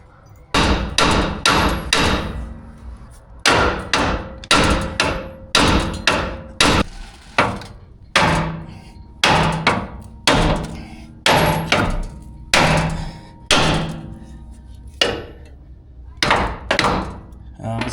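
Sledgehammer striking parts during a 3.4L V6 engine swap on a Toyota 4Runner: loud, close metallic blows, roughly twenty of them, landing in quick clusters with short pauses between bursts.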